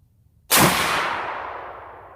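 A single loud, sharp shot from an LWRC Six8 6.8 direct-impingement rifle fired at targets, followed by a long echoing decay outdoors.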